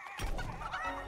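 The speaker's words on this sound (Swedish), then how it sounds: "Ja, fick vi en till kyckling." A chicken clucks in Fortnite, a short burst of close, fairly loud clucking over a steady game background with no speech.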